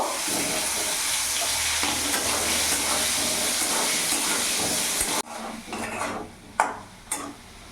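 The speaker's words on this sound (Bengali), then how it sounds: "কেটে রাখা ডুমো ডুমো আলু আমি দিয়ে দেবো তেলে লাল লাল করে ভেজে নেব" Diced potatoes with salt and turmeric frying in oil, a loud dense sizzle that suddenly drops away, followed by a few scraping stirs and clinks of a utensil against the pan.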